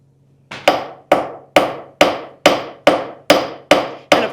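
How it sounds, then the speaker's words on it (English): A silversmith's hammer strikes silver on an anvil while shaping a spoon in an 18th-century style workshop: nine sharp, ringing blows at a steady, even pace, close and loud with nothing else heard. "kind of hammer it in all 4 directions"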